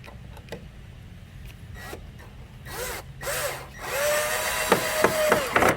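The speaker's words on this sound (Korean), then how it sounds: "이렇게 하고 또 여기에다가 요 못을 박습니다." A nail is driven through a deck clip into composite wood decking at close range: a run of light taps and rubbing scrapes, then louder grinding, whirring strokes of a tool working into the material.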